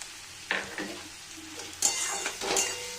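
Chopped onion frying in a pan with a little minced garlic added, a soft steady sizzle punctuated by several close clinking, scraping stirs of a metal utensil against the pan, with no talking.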